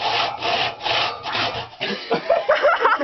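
A hand saw cuts through wood in steady back-and-forth strokes, each rasping pass clear and close, with the rhythm turning choppier and more uneven toward the end.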